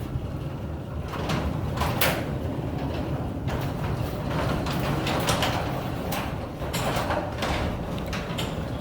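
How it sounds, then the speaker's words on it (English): A Chamberlain side-mount garage door opener closes the door, rumbling and rattling as it travels down, a continuous mechanical drone with intermittent clanks and squeaks along the way. "Hit the button again. The door will go down."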